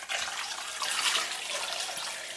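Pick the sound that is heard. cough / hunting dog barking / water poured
water poured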